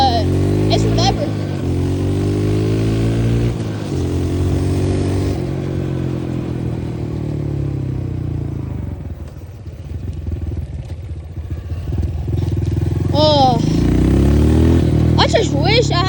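Dirt bike engine revving and running close by, rising and falling through gear changes, easing off in the middle before climbing again to a loud buzzing rev, with talking over parts of it.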